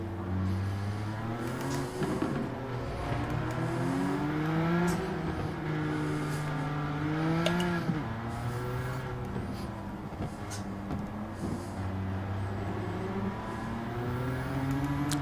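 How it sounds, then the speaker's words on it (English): Cars drive in Gran Turismo 7, a continuous layered engine whine with pitch rising and falling as cars rev and pass, steady and fairly loud throughout. "that ambient sound of cars is really good in Gran Turismo"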